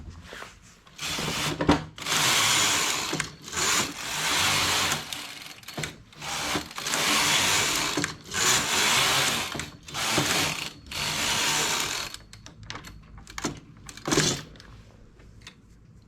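A hand-operated knitting machine works rows of a hat in reverse-side stitch, its carriage sweeping back and forth in repeated rattling, clacking passes of about a second each, separated by brief pauses.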